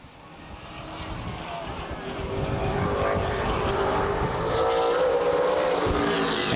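Late model sportsman race cars roar past on the oval at Winchester Speedway, engine drone building in volume and pitch as the field passes, loud and continuous across the whole stretch.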